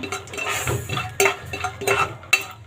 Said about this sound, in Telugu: ఒక కప్పు పల్లీలు వేస్తున్నాను పల్లీలు బాగా వేపుకుందాం మనం